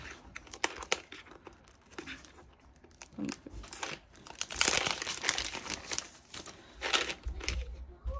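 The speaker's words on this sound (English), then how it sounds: "So it comes in a plastic, like it is like a plastic around it." Plastic packaging wrapper crinkling and crackling up close as a package is opened, in irregular bursts of crisp rustling with brief pauses.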